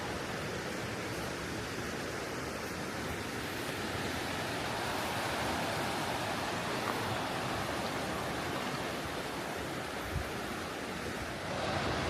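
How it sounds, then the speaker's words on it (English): Steady, dense roar of rushing white water at McConnells Mill State Park, Pennsylvania, continuous and broadband, with no pauses or voices, like standing close beside churning rapids. "some white water as we're heading down through here."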